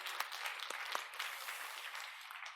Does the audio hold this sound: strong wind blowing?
no